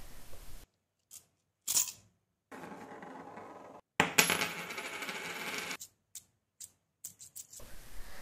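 Coins dropped, clinked and handled as percussion for a song cover, heard alone as sharp metallic clicks and clatters with short bursts separated by silent gaps and a longer dense rattling passage.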